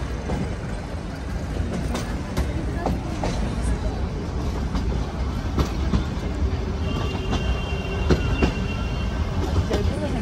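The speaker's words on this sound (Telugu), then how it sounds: "మనం వచ్చేసి మీటర్ గేజ్లో ట్రావెల్ చేస్తున్నాము ఈ యొక్క నీలగిరి మౌంటైన్ రైల్వేలో" A Nilgiri Mountain Railway meter-gauge toy train running between Ooty and Coonoor, heard from inside a general class coach as a loud steady rumble with rhythmic wheel clatter and occasional thin squeals, continuous throughout.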